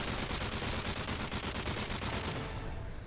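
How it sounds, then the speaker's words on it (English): Dense, continuous light machine gun fire rattles in Modern Warfare 3 survival mode against a juggernaut, loud and unbroken for a few seconds, with no talk. "use the LMG to try and save some cash up for the later rounds"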